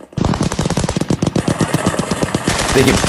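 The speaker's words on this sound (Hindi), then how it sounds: "ये ताबड़तोड़ फायरिंग हो रही है" Rapid, sustained automatic gunfire in news footage from Syria, a dense string of loud shots lasting the whole stretch with no pause.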